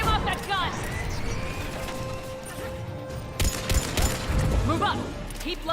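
A mounted gun fires during a Mass Effect 3 battle, with bursts of rapid gunfire and crashing impacts under an ongoing combat soundscape, heaviest in the last couple of seconds; voices call out over the action.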